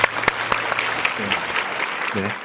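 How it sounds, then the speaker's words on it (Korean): Audience applause welcoming a seminar speaker at an academy presentation, moderate clapping from a small crowd with a few sharp near claps, and a voice briefly speaking over it. "우리 황승희 원장님 박수로 맞아주세요"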